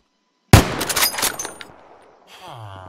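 A single sharp sniper rifle shot in the Minecraft BlockFront WW2 mod cracks out after a moment of silence, then decays with a rumbling tail, followed by a faint mechanical rattle.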